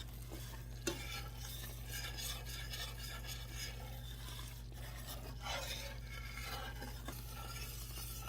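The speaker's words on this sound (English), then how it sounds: "Just keep stirring." A melting butter candy mixture for Christmas crack is stirred in a pot, with continuous close scraping and rubbing strokes over a soft sizzle and a low steady hum, plus one sharp knock near the start.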